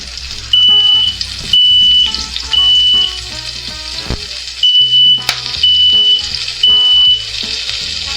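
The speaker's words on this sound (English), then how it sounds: "Guys, we set the alarm off." A smoke alarm shrieks in repeated loud pulsed bursts over the sizzle of burgers frying in a pan during a home cook-off, with kitchen clatter between the beeps.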